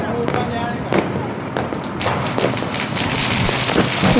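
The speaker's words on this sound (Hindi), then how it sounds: "इतनी मेहनत हो रही है इन पटाखों को जलाने के लिए" Sharp Diwali firecracker pops burst irregularly over a steady wash of outdoor noise, several cracks scattered through the clip.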